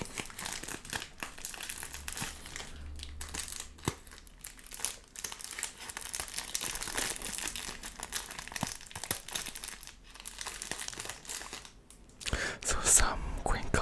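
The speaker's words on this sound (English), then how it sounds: "Some crinkle sounds also for you guys, for those who love crinkle sounds." Plastic packaging crinkles and crackles close up while silicone cup covers are unboxed, in irregular bursts of rustling and tearing, with soft whispering heard alongside.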